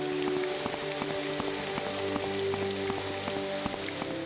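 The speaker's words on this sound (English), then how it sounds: "You really struggle in the rain, my man." Steady rainfall in the Morrowind game world, a continuous even hiss of drops on surfaces with faint tonal game ambience running beneath it, no voices.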